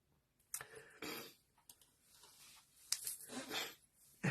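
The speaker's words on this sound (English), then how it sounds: "I'm still coughing." A person coughs and clears their throat after soda went down the wrong way, a few irregular close bursts separated by short pauses, with no speech.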